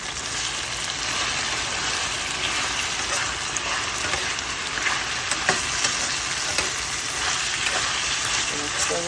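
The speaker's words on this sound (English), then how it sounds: "So we just let that fry." Salt mackerel fries with red peppers, tomato, onion and hot pepper in a pan, giving a steady, close sizzle that runs unbroken throughout with small crackling pops and no talking.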